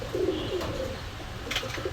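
A male Rampuri pigeon coos in a shop, soft repeated low murmuring coos close by, fairly faint and without talk.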